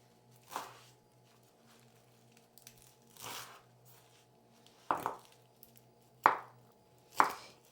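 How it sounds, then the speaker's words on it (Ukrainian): Five separate knife chops finely cutting a bunch of young parsley land on a cutting board, spaced unevenly, quiet and close, with soft background hum between strokes. "І наскільки можна міленько нарізаю петрушку."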